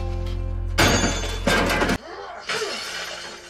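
Glass shattering in a violent smash, a loud crash with a bright tinkling spray, then a second burst of breaking glass a moment later, over a steady low hum.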